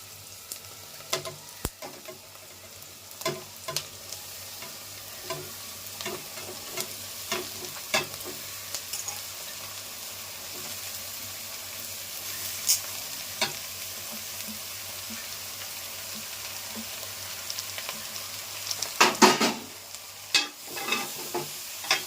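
Ridge gourd and tomatoes hit the pan with dried prawns and onions, giving a steady sizzle with frequent spoon scrapes and stirring clatters, busiest near the end.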